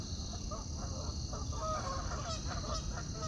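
A flock of geese honking excitedly in the woods, overlapping calls rising and falling steadily over a low outdoor rumble, moderately close and without talk.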